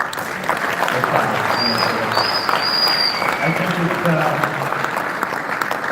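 Audience clapping for its own achievements, a continuous even patter of many hands with faint murmuring and brief tonal sounds in the background.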